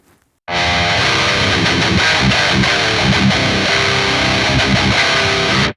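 Electric guitar played through the force drive overdrive on a Boss Ampero, a thick, saturated distorted tone that starts abruptly after a brief silence and rings steadily for several seconds, with no talk.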